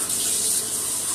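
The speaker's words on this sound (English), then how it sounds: "And I'm going to add some cold water." Cold water being poured for a homemade creamy chicken and waffles dish makes a steady, hissing splash that runs close and continuous for the whole brief moment.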